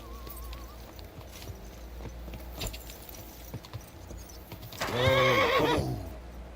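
A loud, high horse whinny in the video game Kingdom Come: Deliverance 2 rises and falls near the end, following a stretch of quiet background ambience with faint hoof clatter.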